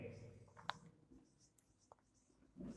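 Pen or chalk writing out a math derivation for second-order partial derivatives, faint and close, with a few scratchy strokes and taps in a quiet room.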